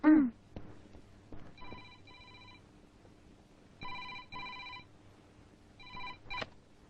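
A telephone ringing in a Telugu movie scene, repeated short double rings in a steady pattern, clear and fairly close against a quiet room, with brief voices around it.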